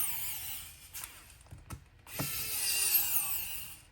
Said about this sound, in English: Let's try to screw in. You see, and that's it. And I'm screwing in the same place actually.